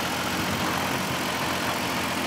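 A 2007 Ford Freestyle's 3-liter V6 engine idles steadily with a low, even rumble throughout, no voices present.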